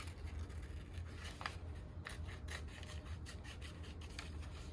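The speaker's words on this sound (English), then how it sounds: "So we're gonna start cutting out petals out of there" Scissors cutting paper flower petals, a faint, close, continuous snipping and rustling scrape with quick soft cuts and no talking.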